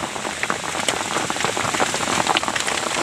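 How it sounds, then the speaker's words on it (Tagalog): Heavy rain with big, fat raindrops pelts a surface near a tilapia fishing spot, a loud, dense, continuous patter of overlapping splats without any talking. "Lalaki ng ano, patak ng ulan."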